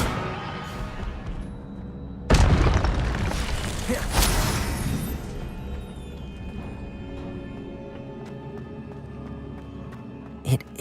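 In Hogwarts Legacy, an Incendio fire spell goes off with a loud booming blast that trails into a roaring rumble, followed by a second burst and a fading crackle, ending with a brief sharp pop.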